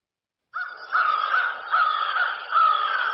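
A crow caws in several harsh, drawn-out calls that run into one another after a moment of silence, loud and close with nothing else heard.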